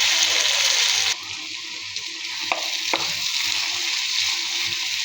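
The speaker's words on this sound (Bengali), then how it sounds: "ভাজা ভাজা করে নিব।" Beef tripe fries dry in a pan with cumin powder, a loud continuous sizzle that drops slightly after a second, with a few scraping stirs and clinks as it is turned.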